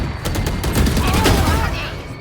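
Rapid bursts of gunfire in Valorant crack out in quick succession, loud and close, a dense volley of several shots over a couple of seconds.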